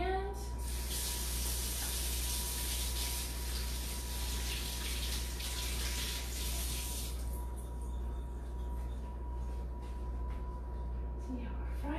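Tap water runs steadily while hands are washed at a kitchen sink during meal prep, a loud broadband hiss that fills the first seven seconds and then cuts off, leaving a quieter background hum.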